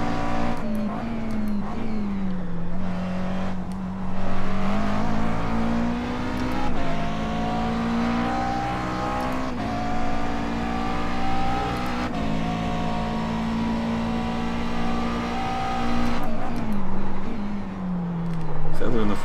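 A race car's engine drones continuously through a corner at Sebring in iRacing, the note dipping and rising as the throttle is feathered on exit, a steady loud presence with a voice talking over it.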